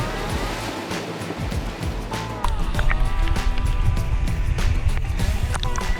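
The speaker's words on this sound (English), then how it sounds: "today we've got river crossings and a lot of them" A 4WD vehicle crosses a pristine river in the Victorian High Country, with splashing water and engine rumble that swell into a louder, sustained rush of churning water partway through.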